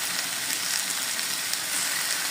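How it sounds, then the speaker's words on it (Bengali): Vegetables with a little sugar and salt fry in a pan, giving a steady, even sizzle that runs throughout with no talk over it. "এবার সব ভালো মতো ভেজে নেব"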